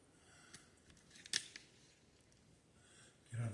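Scissors snip through material before it goes into a pot, a few faint cuts scattered over a quiet background with one sharper snip near the middle and a low thump at the end.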